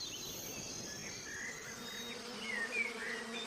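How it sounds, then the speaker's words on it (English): A swarm of bees buzzing in a dense, steady drone, with thin higher whines from individual insects weaving across it, held at an even level throughout. "There's nothing odd to our eyes about swarming bees."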